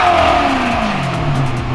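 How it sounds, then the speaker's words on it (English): A Maserati GranTurismo on its stock exhaust revs briefly, a loud, close engine note that rises and falls across a short burst. "that's the stock exhaust sound"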